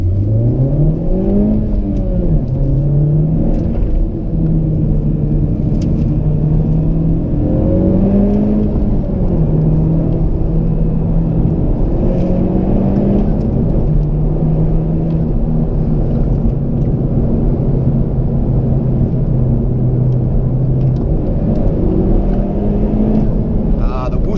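A new Honda Civic Type R just past its break-in period accelerates hard from inside the cabin, engine droning loudly and rising and falling in pitch through repeated revs and shifts, with someone talking over it.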